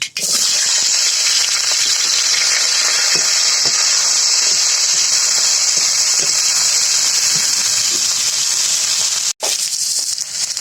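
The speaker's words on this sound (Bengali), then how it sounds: "সরিষাটা ফুটে উঠেছে আগে থেকে কেটে এবং ধুয়ে পরিষ্কার করে রাখা কচুর ফুলটা দিয়ে দিলাম" Cut taro flowers hit hot oil with popping mustard seeds, giving a loud, continuous hissing sizzle that cuts out briefly near the end.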